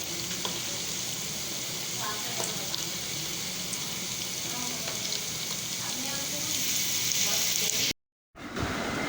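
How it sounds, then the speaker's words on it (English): Potato sticks deep frying in oil over a medium flame: a dense, continuous hiss and crackle that holds steady and loud, broken by a sudden brief silence near the end before resuming. "Fry it on a medium flame."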